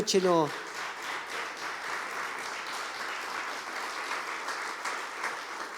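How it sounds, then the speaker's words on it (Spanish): A church congregation breaks into steady, sustained applause of welcome, dense clapping filling the hall after a brief spoken phrase at the start. "Le damos un aplauso de bienvenida."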